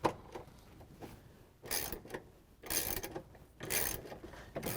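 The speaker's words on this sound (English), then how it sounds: "we're going to use the 3/8 inch socket again with the ratchet and the extension to take off the bolts" A ratchet with a 3/8 inch socket and extension backs bolts out of a GE washing machine transmission assembly, giving three quiet bursts of rapid clicking separated by pauses in a hushed room.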